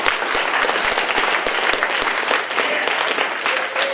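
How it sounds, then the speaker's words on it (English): Loud, sustained clapping from a meeting audience, near and dense, with individual sharp claps standing out within the steady roar of hands for the full few seconds. "Round of applause for Maddie and for Lindsay."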